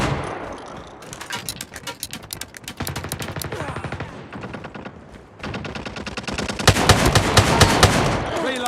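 Striker shotgun fire in Call of Duty Mobile: rapid, sharp, loud blasts come in dense bursts with brief pauses between them, close and punchy.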